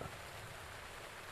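Rain in the video game The Legend of Zelda: Breath of the Wild hisses in a dense, even wash of noise, faint and unchanging for the whole short stretch.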